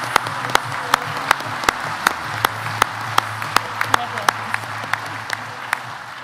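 Applause from an audience at a college sport awards ceremony, a steady wash of many hands with distinct louder claps popping through at an even pace, and a low background hum beneath.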